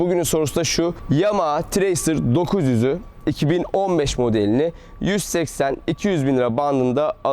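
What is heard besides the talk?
None of the usual background noises is heard.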